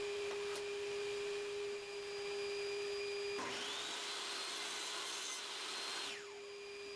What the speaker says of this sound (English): Then you flip it over, set it against the red part and cut another dado.